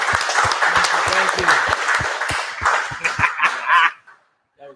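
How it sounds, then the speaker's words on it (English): An audience at the Southside Hopportunity event breaks into applause, a dense round of clapping with sharp individual claps that thins out and stops, and a voice speaks briefly near the end. "Let's give a round of applause here real quick."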